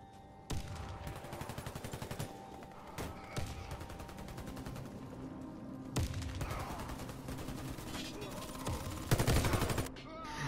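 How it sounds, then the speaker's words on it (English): Gunfire in Warface during a team deathmatch at an oil depot, rapid automatic bursts and sharp single shots, fairly close, repeating through the stretch with short pauses. "there's guns a-blazing past this corner"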